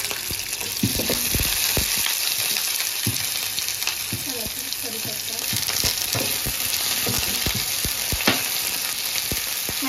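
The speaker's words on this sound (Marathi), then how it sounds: "वेलची, दालचिनी, आता कांदा घालूया." Onion frying in hot oil with whole cardamom and cinnamon, a steady loud sizzle punctuated by sharp clicks of stirring against the pan throughout.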